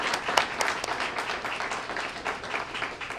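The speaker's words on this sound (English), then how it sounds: "let's give them a great round of applause because they worked so hard" An audience at a school Student of the Month event applauds a camera crew, giving a brief burst of dense, steady clapping.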